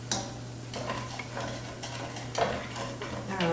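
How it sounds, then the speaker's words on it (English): Sherry cooking off in a hot pan for a chicken and broccoli casserole, giving a steady close sizzle with a few scrapes and stirring clinks, alone with no voices. "Just let that sherry completely cook out, so you're cooking out the alcohol"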